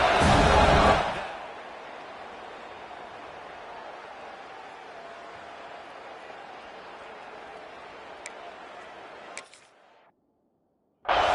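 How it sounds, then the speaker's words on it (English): A stadium crowd in the video game NCAA 26 roars loudly at first during a field goal attempt, then drops to a lower steady murmur and cuts out briefly near the end. "This crowd trying to do its part to get inside the kicker's head."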